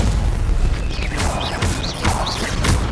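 Incendio fire spell blasts in Hogwarts Legacy, several loud whooshing bursts in quick succession, close and dense, mixed with other spell effects and no talk.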